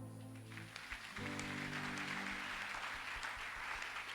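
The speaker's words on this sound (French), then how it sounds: "Acclame d'abord pour le Saint-Esprit." Congregation at a charismatic church gathering applauding in praise, a broad steady wash of clapping that swells after a brief tonal music passage and holds loud to the end.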